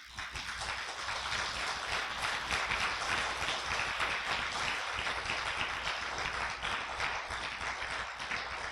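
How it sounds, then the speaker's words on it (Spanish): A church congregation applauds loudly in praise of God, a continuous dense wash of clapping heard from a distance, steady throughout with no clear individual claps. "denle un aplauso fuerte a mi Dios"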